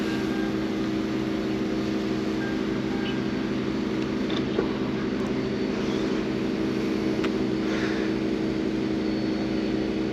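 A camera drone takes off outside a company head office, its steady multi-rotor buzz droning evenly and loudly throughout with no pauses.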